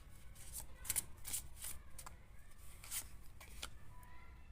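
Tarot cards being shuffled and drawn in a reading, a quiet close-up series of riffling, sliding card flicks with brief snaps, no talk over them.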